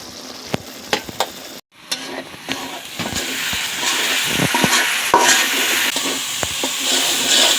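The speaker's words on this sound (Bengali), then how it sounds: "এখন একটু মশলাটা কষাই নিলাম" Turmeric, coriander, cumin powders and salt frying in a pan for a tomato fish curry, a steady close sizzle with sharp spoon scrapes and stirring clicks, broken by a brief silent gap early on.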